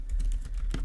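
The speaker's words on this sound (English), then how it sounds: "I'm going to type out" Quick, soft keystrokes on a computer keyboard while filling in an email settings form, a short burst of several taps close to the microphone.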